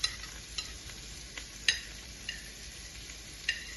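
Onions sauté in a pan with a soft, steady sizzle broken by occasional light clicks of a spoon stirring, fairly quiet and without voices.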